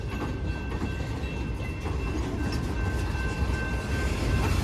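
A freight train of old boxcars rolls slowly past, a steady, loud rumble of wheels and rail noise with a faint high tone running throughout, no voices.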